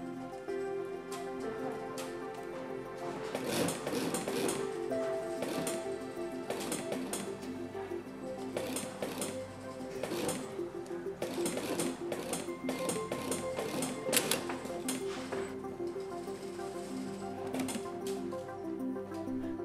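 An industrial sewing machine stitches mohair pieces for a Steiff teddy bear in the factory, producing a steady mechanical hum with rapid ticking and clattering bursts at close range, alone without talk.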